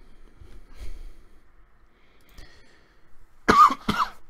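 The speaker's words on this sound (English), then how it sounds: "Deluxe cough." Two sharp coughs in quick succession near the end, preceded by quiet low thumps and near silence; close and fairly loud, with no speech.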